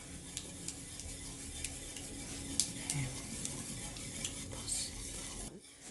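Eggs being stirred and whisked in a bowl for an egg pie filling, a steady soft scraping and tapping of utensil against the bowl, close and continuous, with light clinks throughout.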